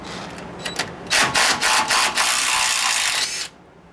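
A ratchet clicks loose a wheel bearing nut on the Dana 44 front axle of a Bullnose Ford F-150, working in rapid pawl bursts close by, loud and alone, then stopping abruptly.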